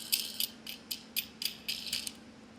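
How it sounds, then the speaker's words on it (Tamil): A screw is turned and a nut locked on a coconut plucker, giving a close series of quick metallic ratcheting clicks in short bursts, about eight in a row, over a faint hum. "இந்த மாதிரி ஸ்க்ரூ போட்டுட்டிங்கன்னா இந்த மாதிரி நட்டை லாக் பண்ணணும்"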